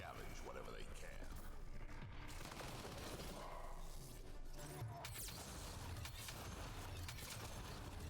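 Distant gunfire and rattling combat noise in Mass Effect: Andromeda on Kadara: a steady, faint wash of shots and mechanical clatter, with voices talking over it.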